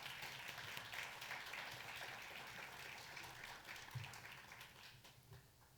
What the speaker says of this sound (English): I think that deserves a hearty round of applause.